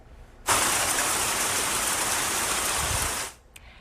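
Hail pelting down during a winter storm in San Jose, a dense, steady roar of hard impacts that starts abruptly, holds loud and even for about three seconds, then cuts off.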